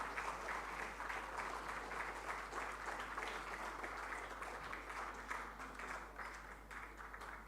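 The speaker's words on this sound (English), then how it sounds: "Let us have a huge round of applause for the wonderful musicians who just now performed for us" A concert audience gives sustained, dense applause for musicians who have just performed at a music festival, steady clapping that holds throughout with faint crowd murmur beneath.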